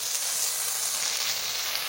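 Taro stolons frying with salt in oil, a bright, even sizzle that holds steady and close for the whole span, with no voices.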